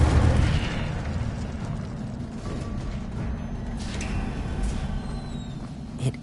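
A fire spell effect from a Harry Potter video game roars as a dense, steady rumbling whoosh, loud at the start and sustained throughout, ending in a small pop near the end; no one speaks over it.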